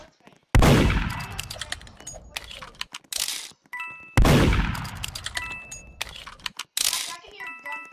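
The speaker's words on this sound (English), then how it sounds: "I can hear gunfire right now." Gunfire in the Roblox game Murder Mystery 2: two sharp, loud shots roughly four seconds apart, each with a decaying tail, among rapid keyboard clicks and small game chimes.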